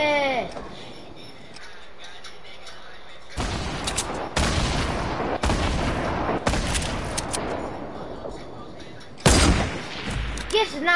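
Sniper rifle shots ring out in a PS4 game, several sharp loud cracks spaced a second or two apart, with a later burst standing out, over steady game background noise.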